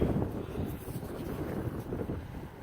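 Strong wind blasts across the microphone outdoors on an open muddy field, a steady rough roar with gusty surges throughout.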